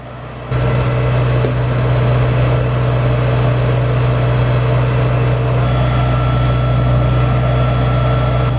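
A Farmall Cub tractor engine idles steadily while driving a Surge milker through a hose, a loud continuous low hum with strong harmonic drone, starting abruptly after a brief quiet moment and holding constant without talk.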